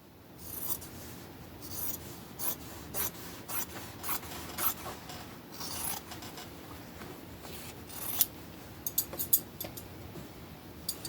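Fabric being trimmed along one side on a serger, a soft ongoing rasping and rubbing with intermittent scratchy bursts and a few sharper ticks near the end, close and fairly quiet, no speech.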